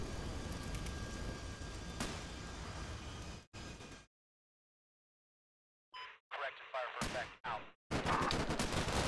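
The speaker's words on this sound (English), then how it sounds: "we're just engaged with small arms fire, some grenades, etc." Small arms fire and grenade blasts in the war game Combat Mission: Black Sea, with dense rattling gunfire at first, then a silent gap followed by scattered sharp bursts and bangs.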